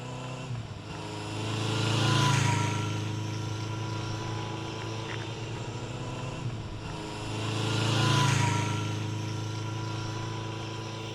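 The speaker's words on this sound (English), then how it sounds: "The CB's just got the standard exhaust and muffler, so let's hear what it sounds like." A 1973 Honda CB750 motorcycle on its standard exhaust and muffler idles steadily with a low, even engine drone, swelling twice in brief throttle blips, fairly quiet and close with no talk.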